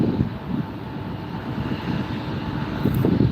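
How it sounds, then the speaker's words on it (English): A United Airlines Express Embraer 175 taxiing at LAX airport, a steady jet engine rumble and whine with a little wind noise, continuous and fairly loud, nobody speaking. "we have a United Airlines Express Embraer 175 getting ready to head up to Fresno"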